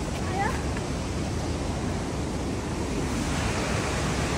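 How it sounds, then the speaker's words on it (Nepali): A river flows in New Zealand near a spot visited for Sharpin Falls, giving a steady broadband rush of water with wind noise on the microphone, loud and continuous throughout. "यहाँ त के छ खोला मात्र छ"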